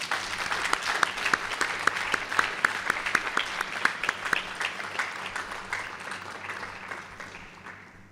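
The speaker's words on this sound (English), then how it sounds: "this is also worth an applause for the entire Gisma team" Applause for the GISMA team at a 2023 graduation ceremony: steady clapping from a hall audience, dense and even, with a few sharper claps standing out, slowly fading toward the end.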